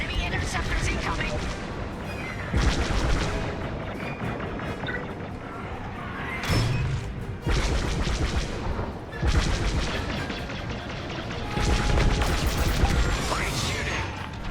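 Starfighter weapons fire in Star Wars: Squadrons, dense bursts of blaster shots and explosions loud in a busy space battle, with radio voices talking over the action.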